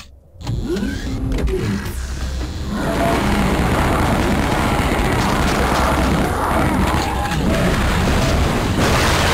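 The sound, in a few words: rocket launcher explosion against a wall in Shadow Warrior video game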